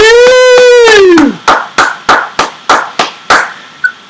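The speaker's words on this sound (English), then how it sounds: "Applause for me." A single person clapping, about eight sharp claps at a steady rhythm, loud and close, following a short siren-like sweep.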